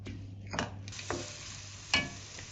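Green chilies are stirred in a pan while cooking chicken biryani, giving a few soft scrapes and clinks over a faint, steady sizzle, quiet and without speech.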